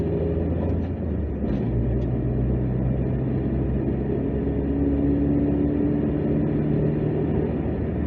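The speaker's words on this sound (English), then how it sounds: "Now let's give it a bit of gas. It makes a little bit of noise." Engine of a 2002 Hyundai Santro, twenty years old, revving under light throttle from inside the cabin, a steady low drone that rises gently in pitch with road noise throughout.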